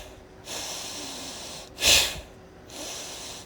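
Forceful Bhastrika pranayama breaths in a yoga session, with two sustained airy breaths around one sharp, loud, snort-like puff, close to the microphone with no talking.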